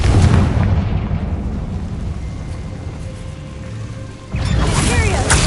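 A Confringo fire spell detonates in Hogwarts Legacy, a heavy booming blast that rolls and fades before another explosive burst erupts near the end, loud and close.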